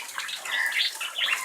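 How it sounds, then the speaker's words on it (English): Water sprayed over an aviary roof to cool the birds runs and splashes off the edge in a continuous close patter and trickle, with no talking. "It's running off the roof over there, but that's what's going over the roof to help cool them down."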